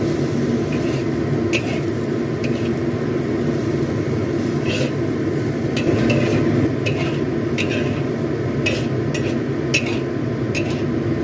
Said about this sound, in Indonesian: Jadi di sini kita tumis 2 menit aja udah cukup ya teman-teman